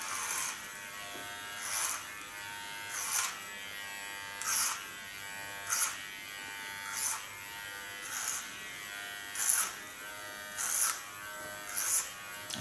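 Electric hair clipper buzzing close up while cutting a boy's hair with a comb, in about ten short repeated bursts roughly every 1.3 seconds over a steady faint hum, no talking.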